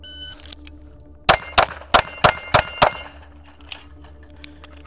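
Rifle bullets striking steel target plates at a shooting range: a quick run of six sharp metallic clangs ringing out in close succession, followed by a few fainter pings, with no talk.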